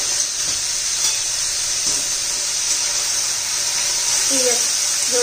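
Mustard seeds and cumin sizzle in hot oil, a steady bright hiss running throughout with a few faint pops, under a voice talking quietly.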